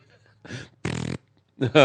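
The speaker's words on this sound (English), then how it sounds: "This chair sits lower than I'm used to, and it's making fart noises every time I adjust myself" A low-sitting chair giving off fart-like noises as the sitter shifts, three short buzzy blasts in under two seconds, the last rising in pitch, close and fairly loud with no talk.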